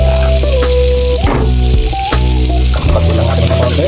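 Garlic hits a well-used blackened wok with a loud, close frying hiss, partly masked by sustained tonal droning in the background, with brief bursts of sputtering as it is stirred.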